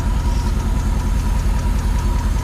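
A 76-year-old Pontiac engine idles steadily, a loud, close, even rumble with a regular low chugging pulse and faint mechanical ticking, running alone without voices.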